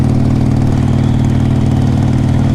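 Steady, loud engine drone of a 2014 Harley-Davidson Forty Eight motorcycle cruising in top gear at about 50 mph, a continuous low rumble with pulsing exhaust beats throughout, no talking.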